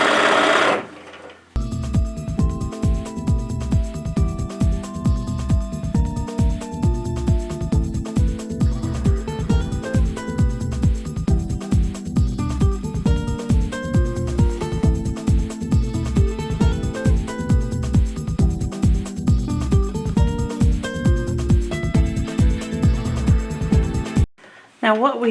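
A sewing machine stitches fabric from a sheet set, running steadily for more than twenty seconds with a fast, even mechanical chatter, close and clear, stopping at the very end.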